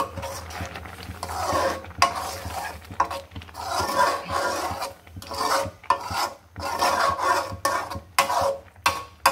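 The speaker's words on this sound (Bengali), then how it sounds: "ঘুটনা দিয়ে ঘুটে, বেশি পাতলা করবো না, একটু ঘন টাইপেরই করব" Boiled dal mashed with a wooden ghutni in a pot, a series of close rasping, scraping strokes in an irregular rhythm with brief pauses between them, no talk.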